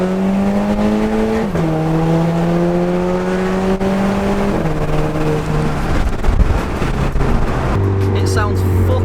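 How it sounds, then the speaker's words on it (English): An Audi TT MK2 2.0 TFSI turbo with a straight-pipe exhaust and DSG gearbox accelerates hard on a kick-down, its loud droning engine note climbing in pitch with quick dips at each upshift, heard from inside the car. "Just a straight pipes 2-litre turbo singing."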